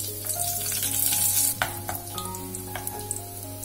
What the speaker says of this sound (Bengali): তেল গরম হয়ে গেছে এবার আমি কুচিয়ে রাখা রসুন দিয়ে দেব